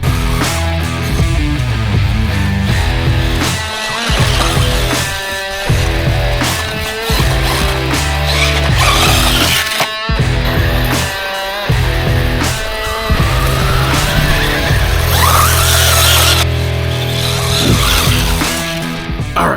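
A $130 brushless Mukola RC truck runs on low winter grass, its electric motor whining loudly and continuously up close as it accelerates and slows in repeated surges, with no talking.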